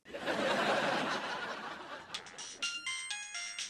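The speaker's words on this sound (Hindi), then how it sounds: "ये किस नंबर से फोन आ रहा है?" A telephone rings in a short series of bright electronic tones, preceded by a burst of broadband noise, fairly faint overall.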